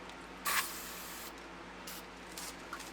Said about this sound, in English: spray it all down with some parts cleaner